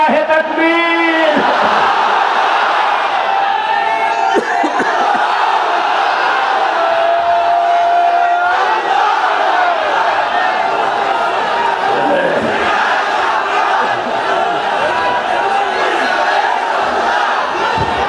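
Large outdoor Islamic rally crowd in Pabna, Bangladesh answering a takbir call with loud sustained collective chanting and shouts, the roar steady and dense throughout.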